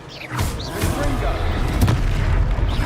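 A Confringo fire spell in Hogwarts Legacy bursts in a booming blast over a dense, continuous din of magical combat, with a voice speaking over the fight.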